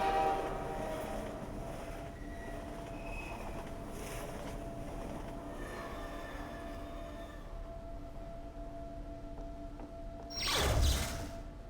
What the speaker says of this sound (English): And this is our train coming here.